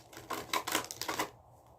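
Playing cards, likely a tarot-style deck, riffle and flutter in a quick shuffle of rapid papery clicks lasting about a second, close and clear with no talk.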